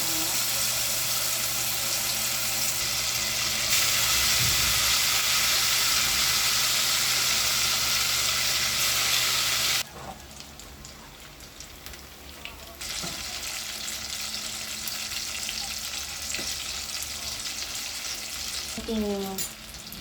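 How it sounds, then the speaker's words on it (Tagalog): Steady loud sizzling and crackling of tofu deep frying in hot oil in a pot, with occasional clinks and stirring, continuing throughout. "Dito na ako nagprito para kahit paano ay nadi-deep fry siya."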